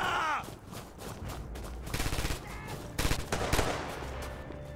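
Gunfire in the World War II shooter game Red Orchestra 2 comes as repeated rapid bursts of shots. The crackling volleys are fairly close and cluster near the middle and end over a dull rumbling background.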